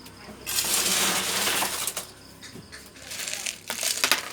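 Ice cubes tumble into a glass while iced coffee is being made, giving a loud clattering rattle followed by several smaller clinks and knocks, close up, with no talk.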